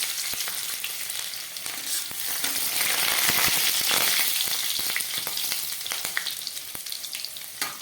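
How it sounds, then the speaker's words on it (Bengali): Crushed garlic and black cumin seeds frying in hot oil in a wok, a loud, steady sizzle with crackling pops that swells in the middle, without any voices. "দিয়ে দিচ্ছি একটু থেতো করা রসুন"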